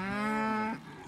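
A Brahman heifer lets out a single loud, close moo lasting under a second, a low droning call that tapers off at the end.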